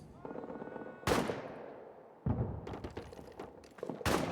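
Machine-gun covering fire in a trench warfare game set in World War I. Loud, close bursts of automatic fire arrive in several heavy volleys, each with a booming onset and a decaying rattle.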